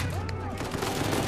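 Gunfire from the video game Uncharted 4 crackles in a rapid, dense stream over a continuous background of game noise and a low drone, with shots clustering more thickly in the second half.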